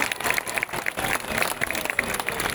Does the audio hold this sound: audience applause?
yes